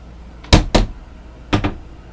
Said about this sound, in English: I'm going to check this large compartment area.